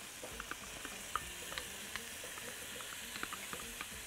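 Rice kofta sits in a pan as tomato sauce goes in, giving a faint, steady sizzle with small scattered clicks and light stirring throughout.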